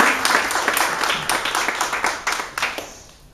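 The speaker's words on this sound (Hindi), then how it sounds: "ताली बजा के प्रभु को धन्यवाद देगा" A church congregation claps their hands together in thanks to the Lord, a steady, rhythmic run of sharp, close claps that fades slightly toward the end.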